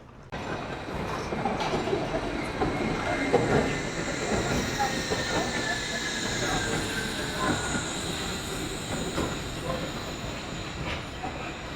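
A Wuppertal suspension railway train passes by in Germany, giving a continuous rolling rumble with a faint high wheel squeal and hiss that holds steady for about twelve seconds, heard from close by.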